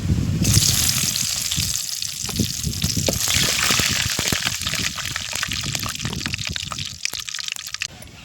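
Broken dried red chillies and curry leaves crackle and sizzle hard in hot oil with mustard seeds, a loud continuous frying hiss with scattered pops, close up throughout.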